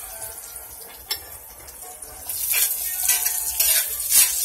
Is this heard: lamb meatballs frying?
yes